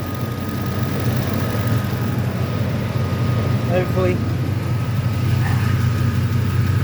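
Ford F-150 5.4L V8 idling with slight lifter chatter after cam phaser and timing work, a steady low hum with a faint even tick, under brief talking.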